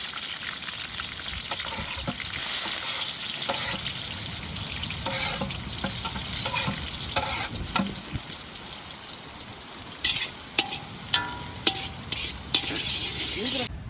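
Onions fry in a pan, giving a steady soft sizzle with a series of scraping, clinking stirs that grow sharper toward the end, heard close and moderately quiet with no clear talk.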